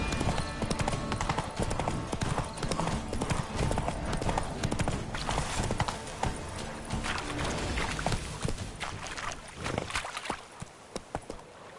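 Horse hooves clip-clopping at a gallop in the video game The Witcher 3 on PS5, a steady rapid rhythm that stays loud and close before thinning out near the end.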